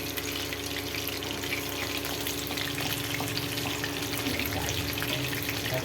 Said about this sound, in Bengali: এক পিট করে ভালোভাবে অল্প আঁচে এটাকে ফ্রাই করতে হবে